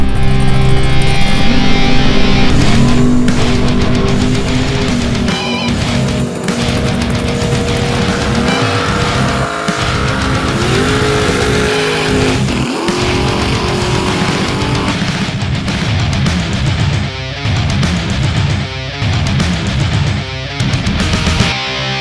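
Drag racing cars at a driving school roar loudly and continuously, with engine pitch sweeping up and down through repeated runs, alongside tire squeal and skidding, with no talking.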